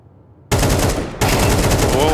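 Gunfire in Counter-Strike 2 during a Vitality vs TheMongolz match on Nuke: a loud burst of rapid shots opens abruptly, then a second dense volley follows after a brief break, filling the clip with sustained close fire.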